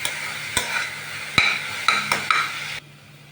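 Onions frying in a pan for a Malabar fish curry, stirred with a utensil that scrapes and taps the pan in several sharp strokes over a steady sizzle. The stirring stops and the sizzle quietens near the end.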